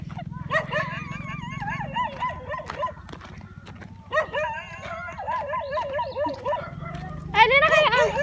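Several dog barks come in bursts over a steady low rumble on a walk to the Mini Chocolate Hills in Umingan, Pangasinan, with voices talking faintly in the background between them.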